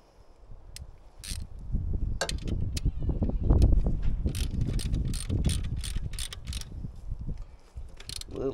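Bolts being tightened with a ratchet during a belt replacement on a Kubota KX040-4 excavator: a steady run of close mechanical clicks and metallic ticks against a low background rumble.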